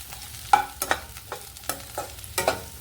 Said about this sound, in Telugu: చింతపండు పులుసు ఉడకబెట్టుకుందాం.